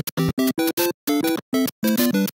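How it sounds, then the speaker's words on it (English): Clean, crisp emulated video game music from RetroArch plays as a quick series of bright, buzzy chiptune notes in short, evenly spaced bursts, with no talking. "it turns crispy emulated sound like this"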